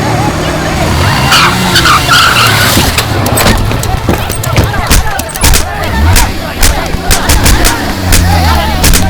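Vehicle braking hard to a stop: loud tire skidding and screeching bursts with sharp cracks, while people shout over the commotion.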